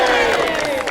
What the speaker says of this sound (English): So give yourselves and Steve the Bannerman a mighty cheer.